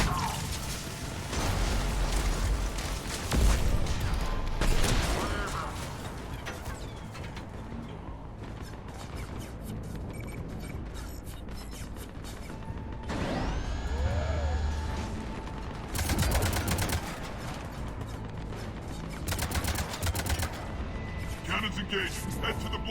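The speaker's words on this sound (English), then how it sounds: "Aria, the cannons have to be armed manually." Space cannons in Mass Effect 3 power up and fire amid loud battle noise, with mechanical whirs, rising charge tones and heavy booming blasts repeating through the scene while voices speak over the action.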